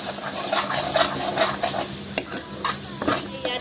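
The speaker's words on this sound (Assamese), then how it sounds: "বিলাহীখিনি আৰু অলপ সময় মই ভাজি ল'ম" Pureed tomatoes sizzle in a pan while a spoon stirs them, giving steady frying hiss with rhythmic scraping strokes up close.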